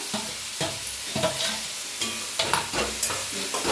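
Roasted mashed eggplant being stirred in a pan with spice powder, repeated scraping strokes of the spoon against the pan over a soft sizzle, close and rhythmic.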